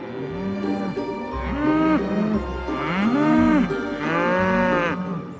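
Cows on a dairy farm moo loudly and close by, several long drawn-out bellowing calls in succession, overlapping one another with no talking.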